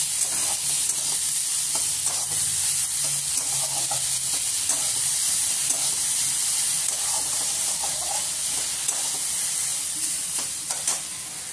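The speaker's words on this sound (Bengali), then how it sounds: "দেওয়ার পরে এটা হালকা করে ভেজে নেব।" Tomato and vegetables fry in a pan, giving a steady, close sizzle with light stirring scrapes throughout and no talking.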